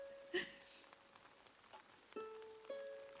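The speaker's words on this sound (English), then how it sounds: "And yes, it's raining on my island" Rain falling on an island in the Animal Crossing video game, a soft, steady patter under faint musical harp-like tones and small chimes.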